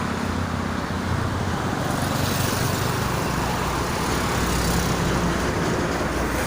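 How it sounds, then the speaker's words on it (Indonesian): Dense, continuous traffic roars along the Jakarta-Cikampek toll road, with freight trucks, small cars and buses passing in a steady broadband wash with no gaps, loud and close. "Yang mau ke arah Jakarta kebanyakannya mobil barang truk ya, ekspedisi."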